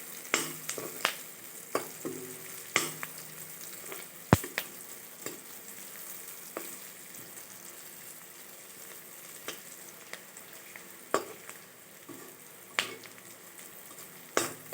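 Onions sizzle and fry softly in a pan for a fish curry, a steady quiet crackle broken by repeated sharp clinks and scrapes of a spatula stirring, with no talking.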